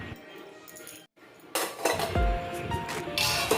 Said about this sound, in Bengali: এবার ঢাকনা খুলে সব কিছু একটু নেড়ে চেড়ে নিচ্ছি।